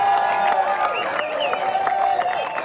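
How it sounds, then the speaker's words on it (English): Crowd applause and cheering for a surfer at the Quiksilver/ROXY Pro G-Land surf contest in Indonesia, a continuous wash of clapping mixed with a sustained tonal sound throughout. "Let's give him a round of applause."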